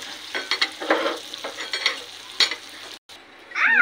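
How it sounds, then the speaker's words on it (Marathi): Pudachi vadi, a Maharashtrian stuffed snack, frying in a pan and being flipped, heard as a steady close sizzle with scraping stirs throughout, then a brief drop-out before the frying noise returns louder. "अशा प्रकारे वडी परत खालच्या बाजूने फ्राय होण्यासाठी"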